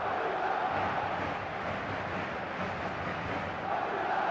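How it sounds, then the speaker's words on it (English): A stadium crowd in the football video game eFootball keeps up a steady, loud roar of cheering and chanting throughout a match, with no speech over it. "the crowd are reacting to that now"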